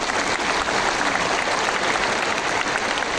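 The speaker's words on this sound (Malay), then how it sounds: "Bagi tepukan kuat sikit." Loud, dense audience applause fills the room at a Malay event, a continuous close roar of many hands clapping without a break.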